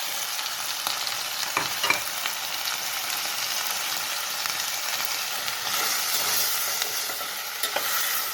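Chopped broccoli sizzles and is stirred in a hot pan for almond broccoli soup, a loud, continuous frying hiss heard close up with no talking.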